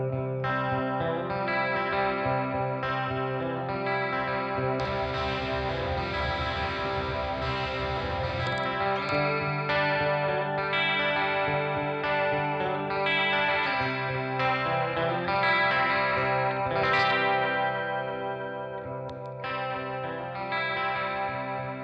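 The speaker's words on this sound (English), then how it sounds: "Do you want to give us a bit of chorusing as well?" An Ibanez AS73 guitar played through a Blackstar ID:X 50 amp with chorus and fuzz: a thick, shimmering, distorted sound of sustained chords and notes that rings on loudly and steadily.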